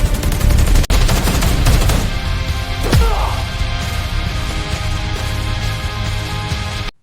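Loud, dense gunfire and explosive impacts fill a battle scene in a Kamen Rider movie, a continuous barrage with a sharp crack near the start, then cutting off abruptly at the end.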